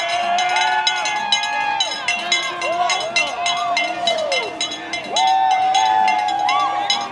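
A train runs along the route ahead of a Mardi Gras parade, with a steady rumble, a loud bell and whistle tones ringing repeatedly above a noisy street crowd.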